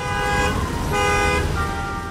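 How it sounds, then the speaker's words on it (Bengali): Car horns honk near Shahjalal International Airport in a horn-free zone, two sustained toots overlapping against a dense roar of road traffic, loud and close. "হর্ন বাজানো নিষেধ, এমন ফেস্টুনের পাশেই দেদারছে বাজছে হর্ন।"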